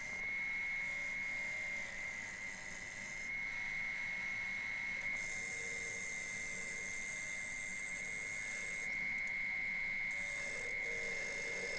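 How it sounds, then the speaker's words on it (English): A wooden bowl blank spins on a lathe while its edge is refined with a turning tool: a steady, loud motor hum and high whine, with the tool's scraping cutting in and out in long stretches, no voices. "So I'm just refining that edge that I couldn't get from the other side."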